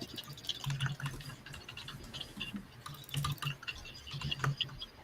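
Computer keyboard keys clacking and clicking in quick irregular runs, fairly close and steady throughout, with no talking.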